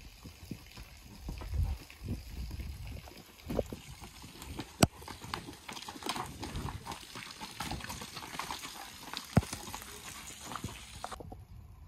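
Horse hooves clip-clopping on a main road during a hack, a steady irregular rhythm of hoof strikes close by under some faint background sound and occasional sharp knocks.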